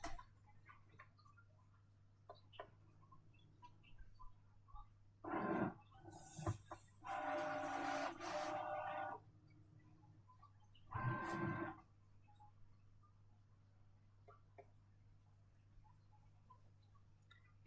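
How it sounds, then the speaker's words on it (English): Cricut cutting machine checking for the correct blade at a crafting table: faint ticking and clicking, then a few short mechanical whirring bursts of motor movement, with quiet pauses between them. "the Cricut will check that we do have the correct blade in. So it's just checking for us."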